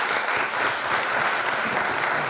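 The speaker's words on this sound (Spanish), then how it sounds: "Un aplauso para Tania," An audience at a talk on tolerance and xenophobia applauds a speaker, a dense, steady roar of many hands clapping that stays even and fairly loud without pause.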